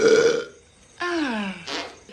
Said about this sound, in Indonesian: Lalu bersendawa sembarangan, membuat semua terdiam mematung.